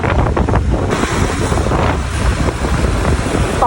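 Strong wind buffets the microphone in Padang city, a loud, continuous roaring rush with gusty low-end thumps, no talk over it, with a faint wash like surf behind.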